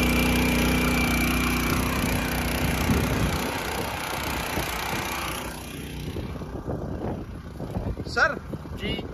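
A four-stroke digging machine engine runs at full load, churning soil, a loud steady drone that fades partway through as louder clattering, scraping bursts take over near the end.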